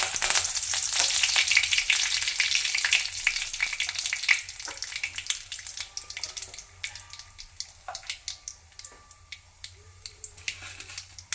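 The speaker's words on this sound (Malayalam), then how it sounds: "കടുക് പൊട്ടി നമുക്ക് കുറച്ച് റെഡ് ചില്ലി ഇടാം. കുറച്ച് കറി ലീഫ്," Red chilli and curry leaves hit hot oil with already-popped mustard seeds: a loud, dense sizzle that eases after a few seconds into lighter crackles and scattered sharp pops, close and with no voices.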